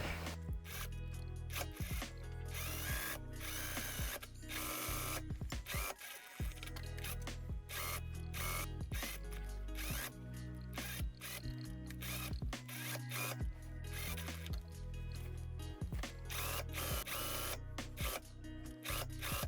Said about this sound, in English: And let's sew this whole thing together, starting from, one side of the hem all the way around over the center back towards the other side.